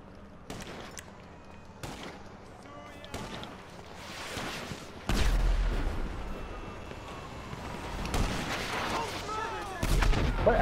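Sniper rifle shots ring out in a video game, a handful of loud, sharp booms spaced a second or two apart over a steady background rumble, with a heavier blast near the middle.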